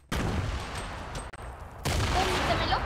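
Rapid gunfire in the Fortnite video game, a dense burst of shots, a brief break, then another loud sustained barrage, with game sounds in the background.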